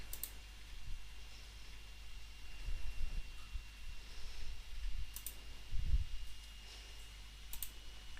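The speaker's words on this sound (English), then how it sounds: "So first thing we want to do is click the Run button" A computer mouse clicks the Run button in Visual Studio Code: a few faint, sparse clicks spread across steady background hiss and low rumble.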